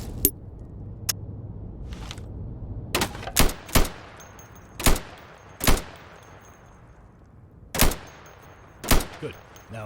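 Rifle shots ring out in a training warehouse in Insurgency, fired at targets set behind plywood: a dozen or so sharp, loud, close reports, some single and some in quick pairs, with short gaps of quiet between them.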